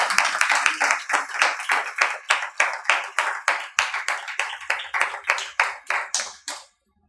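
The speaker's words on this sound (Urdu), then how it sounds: "زوردار تالیاں خداوند کے لیے" Church congregation clapping loudly for the Lord during a sermon, a strong rhythmic series of unison claps about three per second, close and forceful, ending abruptly after roughly seven seconds.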